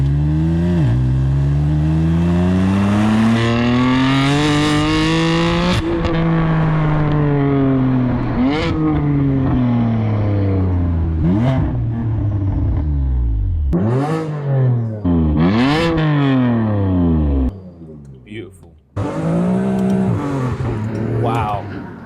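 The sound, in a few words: BMW F80 M3 Scorpion exhaust revving, valves open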